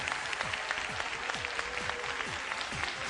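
Studio audience applause on a televised ice-dancing final show, a dense, steady round of clapping that stays loud throughout without breaks.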